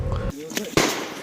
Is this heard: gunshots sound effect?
yes